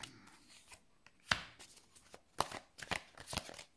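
Oracle cards shuffled and drawn from a deck: a run of quiet, crisp riffling and flicking bursts, some sharper snaps, close and alone without talk.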